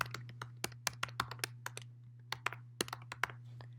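Irregular bursts of sharp clicks from a computer keyboard as someone types, close and crisp over a low steady hum.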